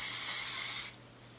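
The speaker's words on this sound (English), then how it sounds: "Again, I'm going to spray that" A steady, close hairspray hisses for almost a second, then cuts off into quiet room tone.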